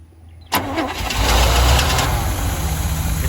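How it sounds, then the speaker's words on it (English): A Chevy square body truck engine cranks over and catches, then settles into a loud, rough idle close by, with no talk over it. "see if I turn it over, it'll start."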